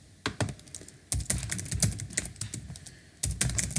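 Password being typed on a computer keyboard, close clattering keystrokes in quick bursts separated by short pauses, with no voices.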